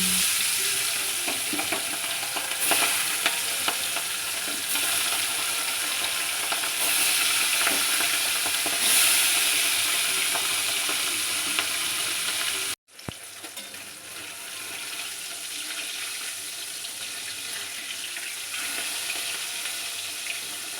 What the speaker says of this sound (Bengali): চলো মাছগুলো এবার ভেজে নিই